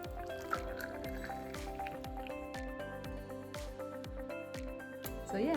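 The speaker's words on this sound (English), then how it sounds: "you can just give them another little quick strain through a sieve like this" Ginger shot liquid strained through a sieve drips and trickles steadily, with a rhythmic run of small close drops and wet squishy splashes in a quiet kitchen, and a slightly louder pour near the end.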